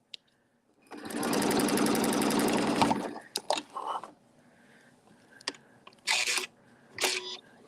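A sewing machine stitches background fill on placemats in a fast, even burst of about two seconds, followed by scattered clicks and short handling sounds.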